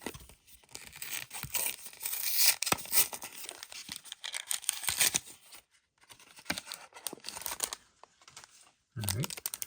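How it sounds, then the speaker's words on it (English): A Disney Lorcana blister pack is torn and crinkled open, its plastic and foil crackling loudly in bursts with brief pauses throughout. "Beast Pack inside of a Beast Blister. And it is being a beast to open."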